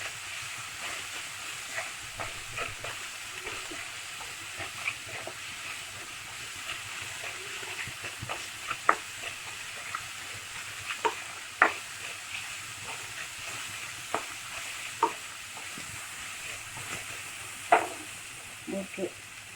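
Chopped vegetables sauté in a pan for lemon idli, a soft, steady sizzle broken by scattered clicks and scrapes of stirring, fairly close and quiet, with a little talk now and then.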